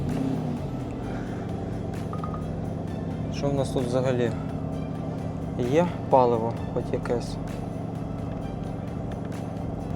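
A 2025 Porsche Cayenne GTS Coupe engine idles with a steady low rumble throughout, a brief rev partway through, while someone talks over it.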